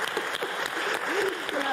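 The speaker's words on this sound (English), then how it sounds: "That does deserve an applause." Audience at a policy conference panel breaking into dense, steady clapping, loud and sustained, with a voice faintly audible underneath.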